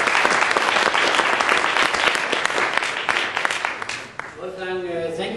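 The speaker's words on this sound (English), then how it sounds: "and applause for them, please." Passengers on a bus applauding their driver and tour leaders, loud close clapping from a packed group that fades near the end as a voice begins speaking.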